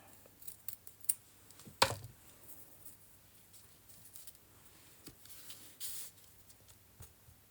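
Scissors snip through rough cotton-textured paper while rustic journal tags are cut, giving a string of short, close crisp cuts with a few sharper louder snips and rustling between them.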